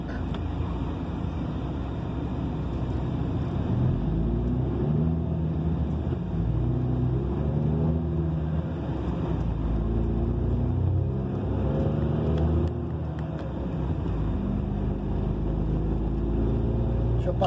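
Car driving along the BR-316 highway past Castanhal, Pará, a constant loud road rumble and engine hum heard from the road, with shifting tonal layers as traffic passes and no talk over it.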